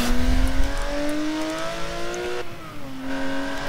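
A Porsche Cayman GT4 engine revs hard while accelerating through the gears in a racing game, a loud, close, rising howl with a brief drop at the shift before climbing again.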